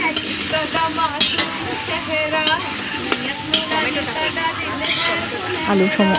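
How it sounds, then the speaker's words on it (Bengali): Potatoes drop one by one into hot oil in a large wok over a big outdoor fire, giving a loud, constant sizzle broken by stirring scrapes, with voices nearby. "এবার এক এক করে আলুগুলোকে আমরা ছেড়ে দিচ্ছি গরম তেলের মধ্যে"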